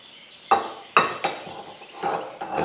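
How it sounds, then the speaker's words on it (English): A hammer strikes a big punch held in a vise to drive out a Dana 60 axle bearing. Several sharp metallic blows land at uneven intervals, each ringing briefly, with no talking. "Instead, we're just gonna put it in the vise and we're just gonna try to use a big punch."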